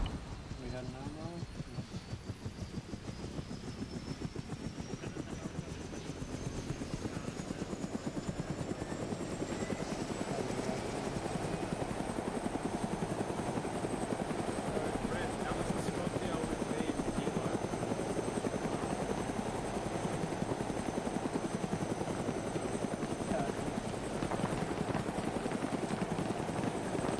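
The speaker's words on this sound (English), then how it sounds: "everyone load up into the helicopter or load up into the plane" An Arma 3 military helicopter drones steadily in-game, a loud, continuous rotor and turbine roar with a rising whine, while players talk over it throughout.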